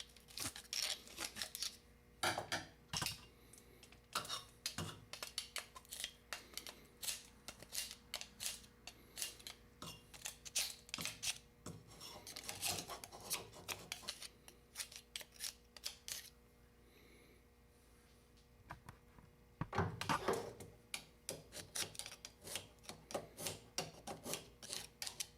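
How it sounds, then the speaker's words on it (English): A flathead screwdriver scrapes the old seal out of a Columbia taping tool, giving repeated short, dry scraping strokes, close and quiet, with brief pauses between bursts. "To remove the current seal, you will need to take a flathead screwdriver and scrape it out."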